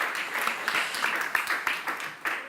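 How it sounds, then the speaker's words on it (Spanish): Scattered applause from an audience at a public debate on women in Canarian society in Agaete, a thin, moderately quiet patter of clapping hands with a few sharper individual claps standing out. "este aplauso también para ella."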